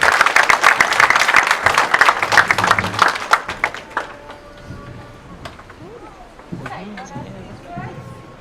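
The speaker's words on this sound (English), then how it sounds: "Can we all give a last round of applause to welcome the group?" Wedding reception guests applaud together, a dense burst of clapping for about four seconds that then thins out, followed by scattered voices and light room noise.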